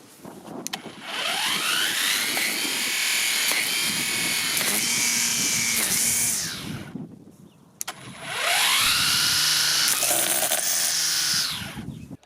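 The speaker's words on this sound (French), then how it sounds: "On va tester l'allongement du fil automatique." A Parkside Performance 40V brushless cordless string trimmer runs up to a loud high whine, drops briefly as the automatic line feed bumps out more line, then spins up again and winds down.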